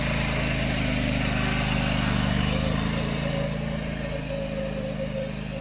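Scag Windstorm blower engine running while the machine is driven around: a steady, loud, low engine drone with a rough, buzzing rhythm, rising slightly then easing, with no talking.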